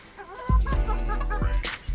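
Chickens clucking close by on a small farm, a few short throaty clucks in quick succession on an overcast day.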